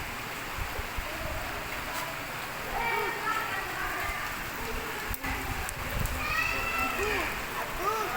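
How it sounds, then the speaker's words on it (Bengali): Steady rain patters onto a tin roof below a three-storey building in Gazipur during a storm, a dense continuous hiss with scattered drips, while children's voices and shouts ring out faintly at a distance. "নিচে টিনের চালা, বৃষ্টি পড়ছে"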